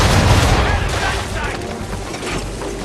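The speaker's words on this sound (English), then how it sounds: "fire broadside!" Ship cannons fire a broadside in the video game Assassin's Creed 3, a dense rolling volley of deep booms and crackling blasts that fills the whole moment, loud and close.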